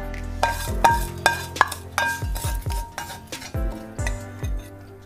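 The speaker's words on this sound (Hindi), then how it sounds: "अब हम उसको इसी जगह प्लेट में निकालते हैं।" A light golden-brown fried breakfast snack is lifted from a pan of hot oil onto a plate with metal utensils, giving a run of sharp close clinks and scrapes over a faint background sizzle, with no talking.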